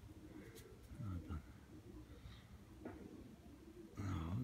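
A racing pigeon coos softly, a few low throaty coos heard close but faint, with a voice talking quietly in the background.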